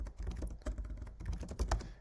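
Fingers type quickly on a computer keyboard, a dense burst of close, crisp key clicks with irregular rhythm over about two seconds and no speech.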